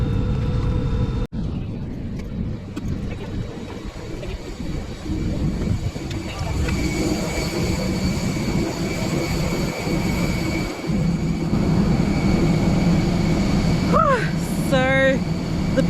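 Steady, loud airplane cabin drone during a flight from Adelaide toward Melbourne, a constant engine and air roar with a faint chime near the end, while people speak over it.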